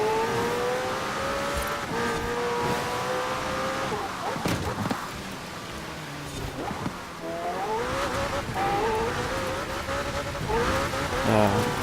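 A Ford Focus rallycross car with a large rear wing, driven in Forza Horizon 4, revs and accelerates with rising and falling engine notes and tire squeals, shifting gears repeatedly across the stretch.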